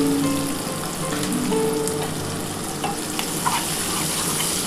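Onions frying in a pan with a little sugar, bay leaf and whole spices: a steady, close sizzle with faint stirring scrapes and small pops throughout, without talk.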